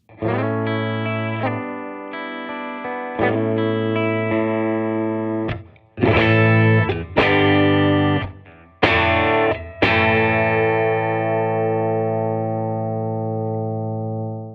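Telecaster electric guitar through a '62 Princeton Chris Stapleton Edition tube amp with a slightly overdriven, warm, naturally compressed tone plays sustained chords and notes, some strummed harder, ringing out with no talking.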